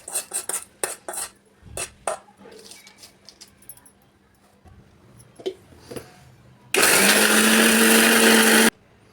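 Dried chillies and cumin clatter and clink as they are tipped into a mixer jar, followed after a pause by the mixer roaring loudly for about two seconds as it grinds them into powder, then cutting off.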